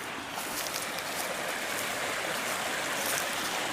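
Steady broadband rush of a small creek flowing outdoors past garden statuary, continuous and fairly close, with no voices over it.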